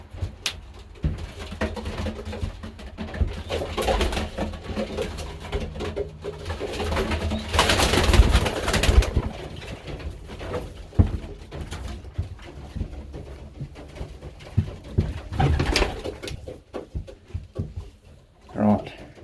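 Pigeons in a breeding loft coo and rustle continuously, with deep repeated coos layered over wing flaps and scuffling. A loud flurry of flapping comes near the middle as a bird is caught.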